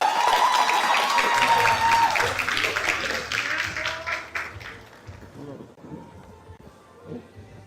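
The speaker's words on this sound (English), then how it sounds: "Let's give a round of applause to Mr." Crowd applause at the El Dorado East Secondary 2025 graduation ceremony for an agriculture award winner: loud clapping from many hands that fades over several seconds while an amplified voice speaks over it.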